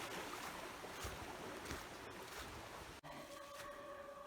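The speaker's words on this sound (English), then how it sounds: "It's the Fox Brook." Fox Brook, a forest stream along a backpacking trail in peak autumn foliage, gives off a faint, steady wash of flowing water throughout, with one brief rustle near the end.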